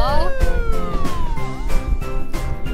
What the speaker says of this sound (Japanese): サイレンを鳴らしてみんなを助けるぞ。